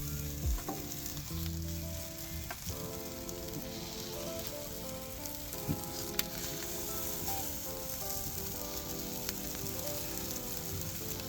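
Nutella roll-ups toast in a skillet at a camping setup, giving a constant soft sizzle and crackle with scattered light pops, fairly quiet and even throughout.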